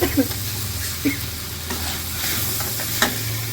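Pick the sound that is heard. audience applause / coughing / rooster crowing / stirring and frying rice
stirring and frying rice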